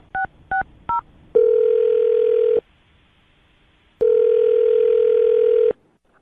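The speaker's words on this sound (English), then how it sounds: "I'm going to dial his phone number right now" Three short touch-tone beeps from a telephone keypad, then a steady dial-style tone that stops, a pause of silence, and a second long tone, all clear and close with no talking.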